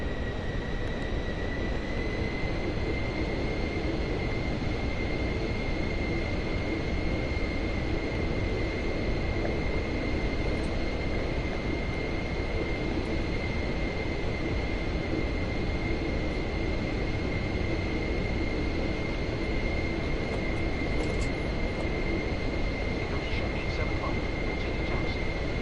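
A Pilatus PC-24 business jet taxiing in Microsoft Flight Simulator 2024 gives a steady, unbroken engine roar with a sustained high whine held for the whole stretch, loud and constant with no break.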